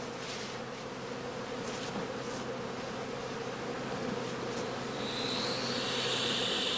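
Honey bees swarm in a dense, steady drone around a heather skep in an autumn apiary, close and continuous with no talk, a thin high hiss rising near the end.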